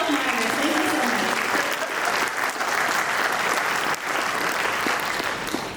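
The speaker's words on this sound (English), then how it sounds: "let's give a round of applause for our Unit Health Monitors" A room of attendees at a military medical group briefing claps steadily, a dense, even round of applause that holds for several seconds with a brief dip near the end.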